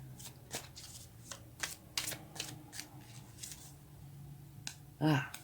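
Tarot cards shuffled and drawn by hand, with a run of soft riffling slaps and flicks, then one sharper snap of a card near the end, close and fairly quiet.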